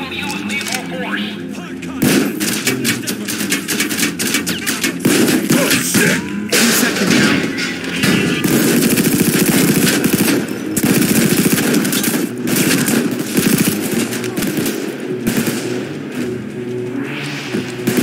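Sustained automatic gunfire and heavy shooting from a Payday 2 police standoff, dense bursts running nearly nonstop and loud throughout, with brief lulls between volleys and faint voices mixed underneath.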